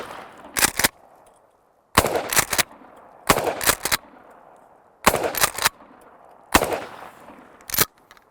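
A Mossberg 500 20 gauge pump shotgun fires factory-style shells in five loud, sharp blasts, each spaced a second or more apart with a short echo trailing off outdoors.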